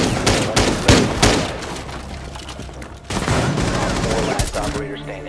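Rapid gunfire bursts in Rainbow Six Siege, Outback map team deathmatch, with dense volleys and booms early, a brief lull, then renewed sustained shooting, loud and close.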